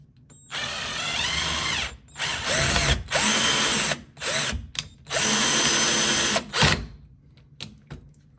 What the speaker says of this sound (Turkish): İlk yaptığım test yuvası olan vidaya ufak bir vidalama ve sökme oldu.